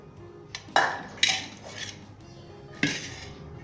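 Metal utensils clink and scrape against a pot in a few sharp knocks while oil is filtered into a strainer, close up and fairly quiet between them, no talk.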